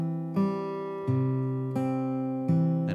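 Fingerstyle guitar played with a thumb-driven picking pattern, four plucked strums roughly every 0.7 seconds with ringing sustained notes between them, close and clear with no talking.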